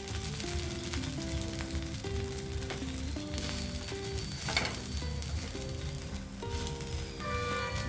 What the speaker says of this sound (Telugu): ఫ్రై అయ్యాక తిప్పేద్దాము.